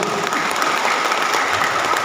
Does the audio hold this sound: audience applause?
yes